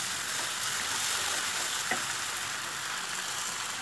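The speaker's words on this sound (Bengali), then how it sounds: "এখন আমি টমেটোটা দিয়ে দিলাম, টমেটোটা 1 মিনিট মতো ফ্রাই করে নেবো হাই ফ্লেমে" Chopped tomato frying in a pan with already-fried ginger and garlic over a high flame for a cauliflower and potato curry. A steady, close, even hiss of sizzling oil continues throughout with no talking.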